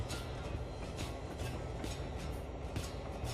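Freight train rumbling steadily in the Railworks game on the Tennessee Pass line, a dense continuous roll with faint periodic clicks and hiss, no voices.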